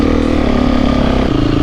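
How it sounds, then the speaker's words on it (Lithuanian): A 2024 KTM EXC-F 350 four-stroke enduro motorcycle being ridden, its engine droning loud and close with a brief shift in pitch partway through. "Kągi, pirmas važiavimas ir galiu iškart pasakyti, koks įspūdis."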